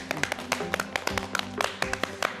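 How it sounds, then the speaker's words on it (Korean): A studio audience on a live Korean afternoon TV show claps as a guest professor comes forward: a quiet, loose patter of individual hand claps, with a faint voice underneath. "이 앞으로 박수로 나와주시죠"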